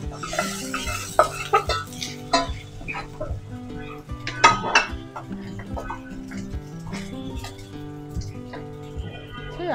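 Beef haleem is stirred in a pot just after tempering is added, with repeated metallic scrapes and clinks of a spoon against the pot over a faint sizzle and a low steady hum.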